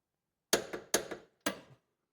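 Three sharp metallic clicks in quick succession, each with a short double-tap, ring out in a quiet garage as a torque wrench reaches spec on bolts during a track bar install.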